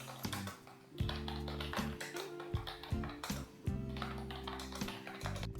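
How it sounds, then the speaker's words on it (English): Steady typing on a Rexus KM9 rubber membrane keyboard gives a quick, continuous run of soft, muffled key taps up close, with a faint low hum underneath throughout. "the sound of typing on this keyboard is not too noisy"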